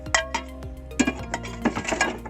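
Metal pans and spoons clink and clatter in a small camper van kitchen, several sharp knocks and ringing taps coming close together and near, with no talking.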